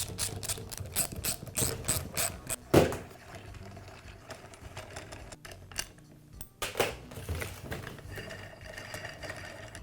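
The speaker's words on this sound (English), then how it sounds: "I'll begin by removing the nail gun's cap." The cap comes off a Max roofing nail gun with close ratcheting, clicking mechanical sounds and a couple of sharper clacks from the metal parts, with no talk.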